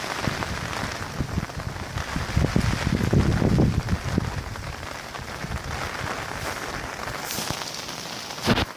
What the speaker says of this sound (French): comme vous pouvez le voir, il pleut, toujours